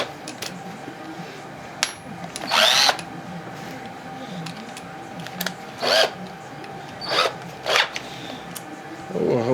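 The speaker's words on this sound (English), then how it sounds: "I hope my drill has enough power to do this." A weak cordless power drill spins a Tecumseh small-engine starter during a repair, giving short whirring bursts a few seconds apart, each lasting under a second, with quiet handling noises between them.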